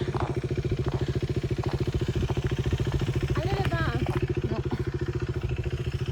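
Steady rhythmic putter of a scooter engine running nearby, its fast regular firing pulses continuous throughout, with a brief voice heard faintly over it midway.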